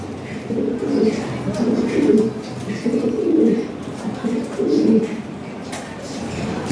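Fancy pigeons, Lahori Sherazi and Mundia types, coo close by in a for-sale loft, several rolling coos repeating in a steady rhythm over a low background hum with no talk.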